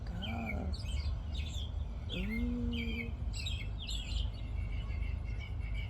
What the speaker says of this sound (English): Is that a hummingbird? Oh my God, it's a hummingbird.